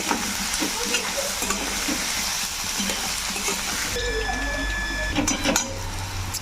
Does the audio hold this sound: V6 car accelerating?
no